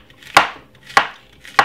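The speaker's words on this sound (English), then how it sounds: "So you're gonna just cut it up" Knife chopping green plantain into small pieces on a cutting board, three crisp, evenly spaced thuds about half a second apart, close and clear with no talking.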